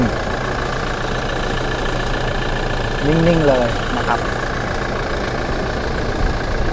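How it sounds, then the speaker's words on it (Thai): A 2018 Toyota Revo 2.8G 4WD pickup engine idles steadily and evenly throughout with a constant low rumble, while someone speaks briefly over it partway through. "เสียงเครื่องยนต์ครับ นิ่ง ๆ"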